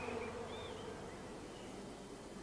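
Honeybees in a swarm box kept in a cool, dark place, making a soft, continuous hum with a faint higher drone drifting above it, steady and low in level the whole time.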